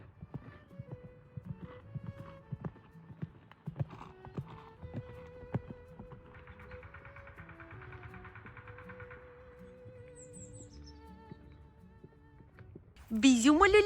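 A pony's hooves clip-clop at a walk, close and irregular, with a whinny and people talking over it before a louder burst near the end.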